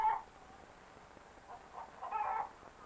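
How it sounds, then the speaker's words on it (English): White leghorn chickens give short, soft clucks: one brief call at the start, then a few more near the end, fairly faint against a quiet background. "These chickens are called white leghorns."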